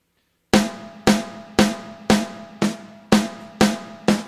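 Eight evenly spaced snare drum strokes of a paradiddle at one steady volume, each crisp and ringing briefly, with no accents and no voices.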